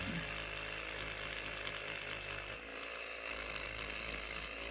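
A small electric nail file whines with a high, steady motor buzz, sanding a nail continuously with slight variations in pitch.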